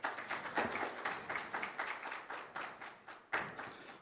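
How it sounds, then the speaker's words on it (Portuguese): An audience applauds as speakers are called to the stage at a Portuguese-language conference event, a bit distant and soft, with the clapping swelling and fading in repeated waves. "Por favor, palmas também."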